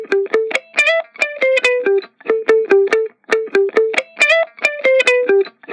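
An electric guitar shaped with EQ boosts and effects plays a quick, rhythmic riff of bright, plucked repeated notes, close and clean with a slightly processed, ringing tone, alone.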